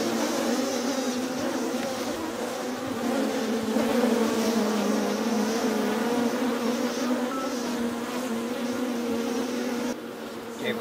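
Agitated honeybees swarm around an opened horizontal hive split, a dense, steady close buzz that varies a little in pitch and fills the whole stretch, with no talking.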